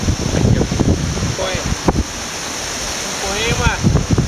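Cachoeira Alta waterfall at Ipoema: a constant, loud broadband rush of falling water, with brief voices breaking through near the start and end.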